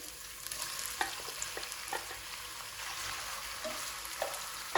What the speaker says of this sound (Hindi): इसको थोड़ा सा भूनेंगे, जब इसका थोड़ा कलर चेंज हो जाएगा